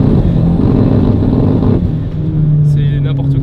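A Cupra tuned to 400 hp accelerating hard under load, a loud, steady engine drone close by that holds its pitch and climbs slightly toward the end, with speech-like noise mixed in.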